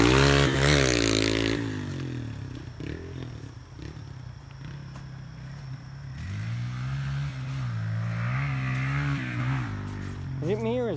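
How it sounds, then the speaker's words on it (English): A motorcycle rides laps around a muddy dirt track, its engine whining and revving as it passes, fades, then grows louder again on the way back, with some clattering and scraping. "is that bike getting louder? It is."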